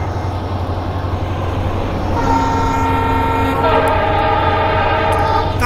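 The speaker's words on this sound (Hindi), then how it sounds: "राइट साइड से देखिए एक और लोकल ट्रेन का क्रॉसिंग।" A local train passes on the adjacent track in India, its loud, steady rumble and rattling wheels filling the scene, with horn-like tones rising in the second half.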